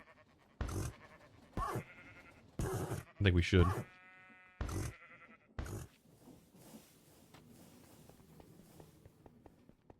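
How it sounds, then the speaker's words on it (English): A Minecraft sheep gives a brief bleat in the middle, among scattered game clicks and footstep-like thuds, while a person talks briefly nearby. "You hear a sheep too."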